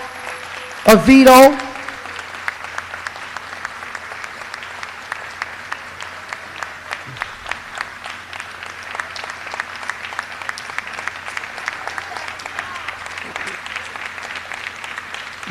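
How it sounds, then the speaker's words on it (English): An audience at a community center ribbon cutting applauds, steady scattered clapping that runs throughout after a short spoken word near the beginning, at moderate distance. "Can we clap it up for the family of Prince Joshua"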